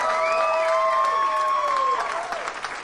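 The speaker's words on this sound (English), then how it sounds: "Give them a nice round of applause." Guests at a wedding reception clapping and cheering for the couple and their friends, lively applause with some whoops, while sustained whistle-like tones sweep above it before the clapping thins toward the end.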